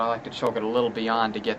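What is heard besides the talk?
None of the usual background noises is heard.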